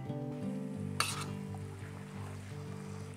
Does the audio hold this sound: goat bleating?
no